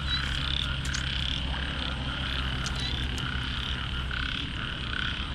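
Frogs croak steadily and densely through a rainy night, a near-continuous chorus of overlapping calls with a few sharper nearby croaks over constant rain hiss and low background rumble.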